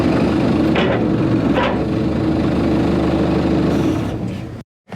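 The diesel engine of a previously broken excavator runs steadily right after starting, a loud continuous rumble with a few brief higher bursts, cutting out abruptly near the end.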